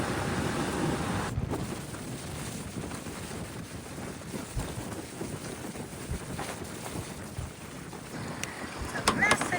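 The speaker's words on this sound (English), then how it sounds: "28 knots of wind." Strong wind of around 28 knots buffets a sailboat riding at anchor, a constant rushing roar with microphone gusts and a few faint creaks and clanks near the end.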